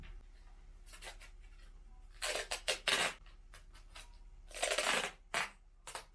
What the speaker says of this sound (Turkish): Bantla arkasını bantlayacağız.